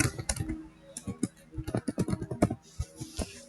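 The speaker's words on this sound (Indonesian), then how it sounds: "mengetik" Typing on a computer keyboard while writing in Microsoft Word: a close, irregular run of quick clicks and taps with brief pauses, heard alone without speech.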